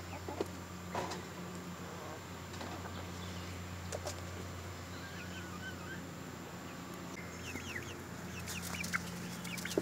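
Young homestead chicks cluck and peep softly at close range over a steady low background hum, with scattered chirps throughout and no talking.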